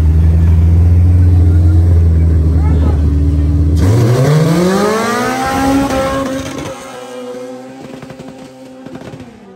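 An Audi race car accelerates hard at a track event, engine pitch sweeping upward through gears after a lower steady drone, loud and close with crowd or commentary noise mixed in.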